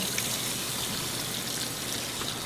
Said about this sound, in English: You want to rinse in cold water.